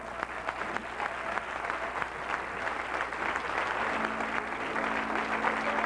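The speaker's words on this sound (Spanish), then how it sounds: "Fuerte el aplauso al Señor." Congregation at a Pentecostal church service applauding in worship, sustained rhythmic clapping from a crowd heard at moderate distance, with a low sustained organ or keyboard tone entering partway through.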